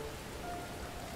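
Steady rain in the video game Rain, a continuous even patter of drops on surfaces with no talking.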